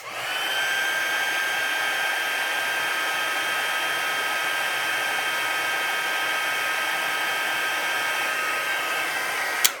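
An embossing heat tool blows steadily for about ten seconds, heat-setting embossing powder on a handmade card; a loud, even whir with a high whine that holds throughout, then cuts off abruptly at the end.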